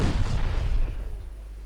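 Naval guns firing high-explosive shells in the Ultimate Admiral Dreadnoughts naval warfare game, a deep booming salvo that rumbles and fades over under two seconds, with no speech.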